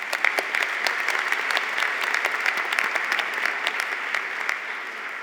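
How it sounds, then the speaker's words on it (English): An audience at a college convocation applauds steadily and loudly, with dense, continuous clapping and no talk. "Let's give them a round of applause as well."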